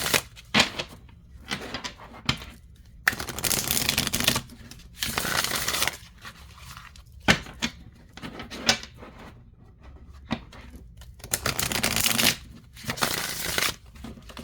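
A new deck of Marchetti tarot cards is shuffled overhand by hand, producing repeated bursts of crisp riffling and snapping card noise separated by short pauses, close and clear.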